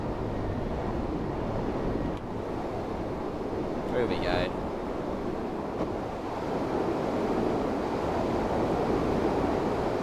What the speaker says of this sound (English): It's very windy though.